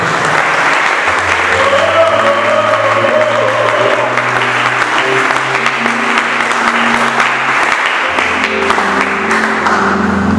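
A church congregation claps and cheers loudly and continuously, a dense wash of applause with an organ or keyboard chord sustained underneath throughout.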